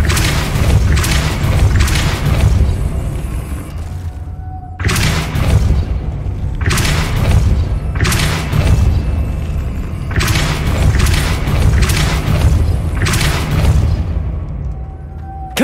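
Repeated Depulso force-spell blasts in Hogwarts Legacy, a run of heavy, close booming thumps in a steady rhythm, each a sharp impact with a short rumbling tail, loud and continuous with no talk.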